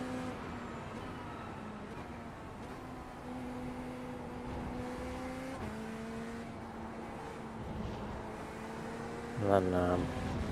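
Race cars at the 24 Hours of Spa, a Porsche and a BMW, with a steady engine drone rising and falling through gear changes, heard from on board with a brief louder burst near the end.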